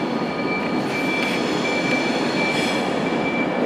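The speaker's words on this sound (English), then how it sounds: "Departing also is a Virgin Pendolino service to somewhere mystical and magical." A Virgin Pendolino train pulls out of London Euston on the 11:30 service to Glasgow Central, giving a steady broad rumble with a thin sustained whine, continuous and fairly loud.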